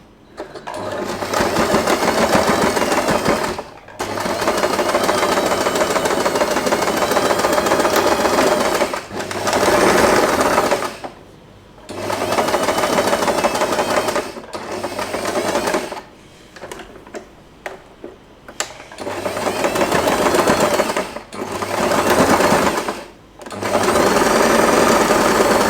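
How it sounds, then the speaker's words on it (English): Sewing machine stitching the corners of a fabric-covered headband, loud rapid mechanical whirring in several long runs separated by short pauses and a few quick stop-start bursts, close and without talking. "Finished sewing all 4 corners."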